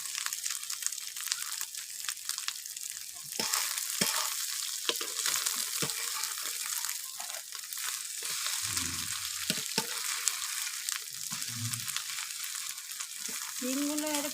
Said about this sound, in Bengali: ডিমগুলো এর পিস পিস করে ভাজতে হবে